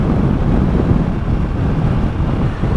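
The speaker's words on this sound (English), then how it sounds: "it is windy as anything here, man. I mean, it's crazy how bad the wind is here." Strong, steady wind buffets a microphone outdoors in flat, water-bound Delaware, a dense low rumble that persists loudly throughout with no speech.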